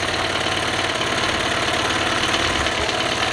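A Honda Civic hatchback engine idles steadily just after being started, a continuous close rumble with a fast, even pulsing beat and no talk.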